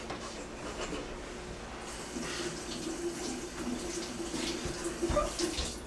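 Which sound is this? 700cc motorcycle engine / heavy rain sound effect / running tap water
running tap water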